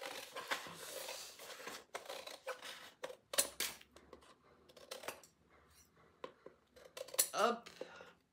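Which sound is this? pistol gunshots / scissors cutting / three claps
scissors cutting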